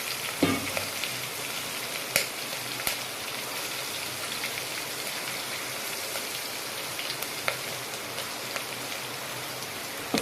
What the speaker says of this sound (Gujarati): હિંગ આપણી બરાબર હજી તતડે ત્યાંમાં આપણે નાખીએ છીએ લીલા મરચાં અને મીઠો